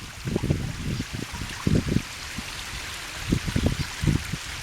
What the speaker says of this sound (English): That is the waterfalls.